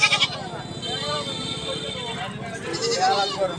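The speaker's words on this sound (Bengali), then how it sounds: "ছাগলের হাটে এই যে এখানে দেখতে পাচ্ছেন আপনার অসংখ্য ছাগলের ছাগল প্রচুর পরিমাণে ছাগল বসে থাকে" Goats bleat at a busy livestock market, several short wavering calls close by over crowd chatter and people talking nearby.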